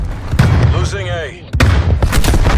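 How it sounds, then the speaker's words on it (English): An artillery strike lands during a Domination match of Call of Duty Black Ops Cold War on the Amerika map, with heavy rumbling booms and a sharp blast midway, while a voice talks over the chaos. "Hostile artillery targeting active. Artillery inbound."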